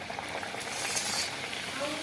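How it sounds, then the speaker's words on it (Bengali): Luchi bread frying in hot oil gives a continuous soft sizzle and bubbling hiss, close by and fairly quiet, with no one speaking. "আমাদের এখন লুচি ভাজা হচ্ছে"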